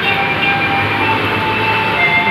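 A KRL commuter electric train bound for Nambo rumbles close by at Universitas Pancasila station, with a steady mechanical hum and high whine, continuous and loud, no voices over it.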